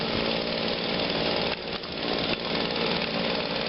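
An Echo gas leaf blower roars steadily and loudly close by, with only slight dips in its constant whooshing drone.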